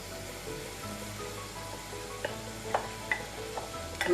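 Cooked rice for Schezwan chicken fried rice sizzles in a hot pan under steady stirring, a constant frying hiss broken by occasional scrapes and clinks of the spatula.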